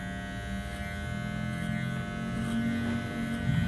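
Electric hair clipper running during a fade haircut, a steady close buzzing hum that holds evenly throughout and swells slightly toward the end, with no talk.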